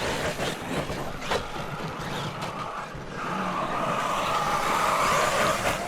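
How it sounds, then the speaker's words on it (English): Small RC car engines whine and buzz as several little cars zip around nearby, pitch rising and falling with occasional tire scuffs. "we got cars ripping everywhere"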